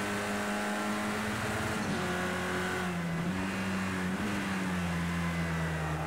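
GT3 race cars in Project CARS 2 roar with high-revving engines, a dense, loud, continuous drone with pitch shifts as they accelerate and pass, no talk.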